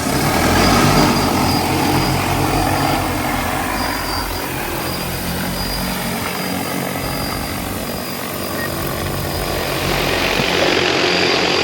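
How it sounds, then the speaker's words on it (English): An agricultural drone sows seed over a rice paddy, its rotors giving a loud, steady, broadband whir and hum that carries through the whole stretch, slightly louder at the start and end, with no voices. "the young gentleman behind me is controlling the drone with his remote control."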